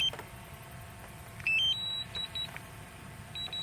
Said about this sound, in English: So I held it down, it's beeping.